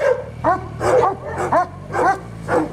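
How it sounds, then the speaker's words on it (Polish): Dogs bark excitedly at a newly acquired machine, about five or six quick, close yips and woofs in a steady rhythm. "Pieski się radują, co to za nowy sprzęt"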